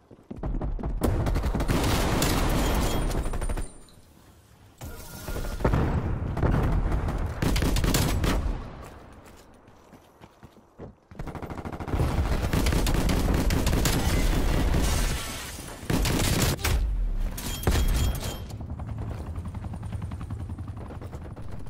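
Shotgun fire in Call of Duty Cold War comes in loud bursts of heavy blasts and mechanical clatter, several clusters spread across the stretch with quieter lulls between them.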